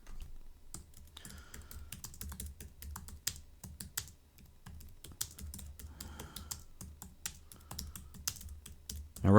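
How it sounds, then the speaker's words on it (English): Steady, close typing on a computer keyboard while building a WordPress landing page, with rapid uneven key clicks running throughout and no voices. "we're going to type in what we did last time"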